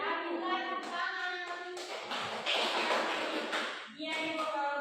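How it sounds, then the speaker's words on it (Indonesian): Classroom of young children in an Indonesian elementary science lesson clapping hands together, a dense burst of claps from about 2 to 4 seconds amid ongoing children's voices and chatter. "tinggal tepuk tangan"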